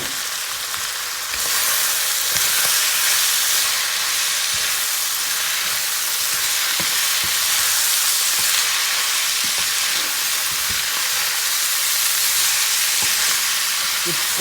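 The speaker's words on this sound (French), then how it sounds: "le reste de mes légumes, je viens mélanger à la préparation" Vegetables are stirred into a meat samosa filling in a hot pan, with a steady loud sizzle and hiss running throughout and soft scraping stirs underneath.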